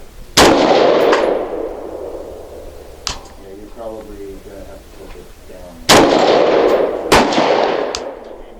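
V Seven Enlightened rifle fired outdoors at a range, several loud sharp gunshots with ringing tails, two early, two close together near the end, and a short burst of speech in between.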